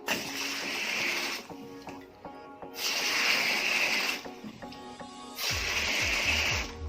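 Water gushes into a household water tank once the water meter is opened, during a float ball valve replacement; the hissing rush comes in three loud surges with short quiet gaps between them.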